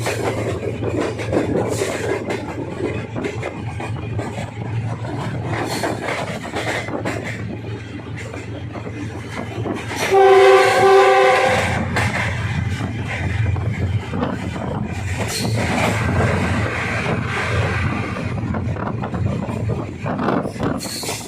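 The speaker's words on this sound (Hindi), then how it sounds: "लाहौर कैंट के रेलवे स्टेशन से थ्रू पास करते हुए 38 डाउन फरीद एक्सप्रेस" The 38 Down Fareed Express rumbles steadily through Lahore Cantt railway station without stopping, wind buffeting, then a loud horn blasts briefly midway before the rolling noise continues.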